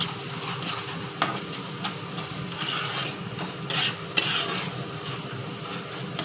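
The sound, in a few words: stirring potatoes with turmeric and spices in a pan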